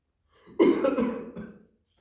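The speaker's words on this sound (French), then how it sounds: "J'ai une toux." A single short cough from one person, close and clear, rising abruptly and fading within about a second, during a spoken performance in Montreuil.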